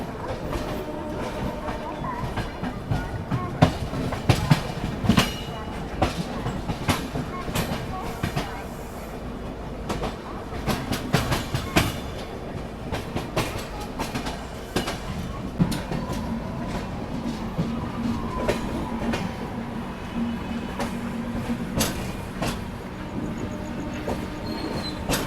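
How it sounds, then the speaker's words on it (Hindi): Superfast express train pulling out and moving along, wagons giving a steady clickety-clack with occasional wheel squeal and rumble, heard from inside a coach with some voices in the background. "और यहाँ पर अपनी ट्रेन निकल रही है।"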